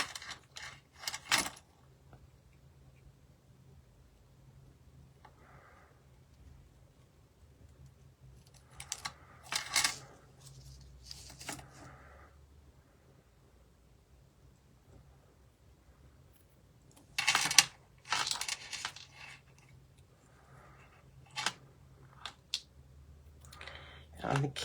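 Scissors snipping through paper while cutting out a paper-pieced candle for a handmade card, in a few short bursts of crisp cuts separated by quiet pauses, close to the microphone.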